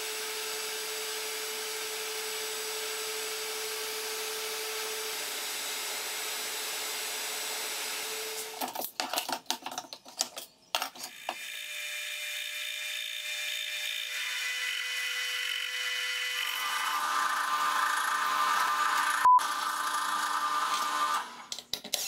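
A high-pitched machine whine of a pantorouter drilling holes into a wooden watch, steady and loud, with pitch shifts and brief cutting bursts midway.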